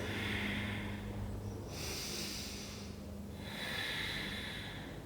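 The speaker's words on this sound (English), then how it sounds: "Breathe deep, Ujjayi breaths." Deep Ujjayi breathing during a yoga flow gives slow, hissing inhales and exhales that alternate in long, even cycles, close and soft, with no talking.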